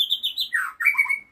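A white-rumped shama (murai batu) sings a brief, clear phrase of bright whistled notes with sliding and warbling tones, close and loud against silence.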